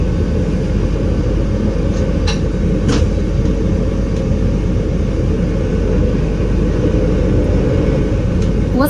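Inside the cab of a Dutch VIRM double-deck train running between Nijmegen and Arnhem, a loud constant low rumble and roar of motion continues throughout, with a few faint brief clicks and taps over it.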